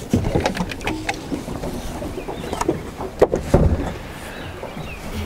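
Four-stroke outboard boat engine on a short warm-up run, a loud, rough running drone mixed with irregular knocks and splashy bursts, with no voices.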